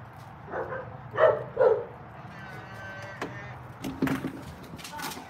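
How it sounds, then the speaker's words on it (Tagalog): Two dogs barking outdoors in a yard while a lawn is being mowed, a few short loud barks in bursts with a fainter yip later, over steady low background rumble. "Ang dalawa kong aso."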